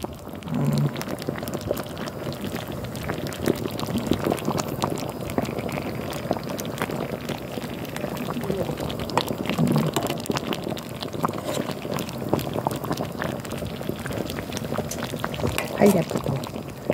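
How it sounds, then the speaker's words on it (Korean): Steady bubbling and simmering of sweet and sour sauce in a pan, continuous and close, with muffled voices talking over it throughout. "지금 소스가 끓고 있네요"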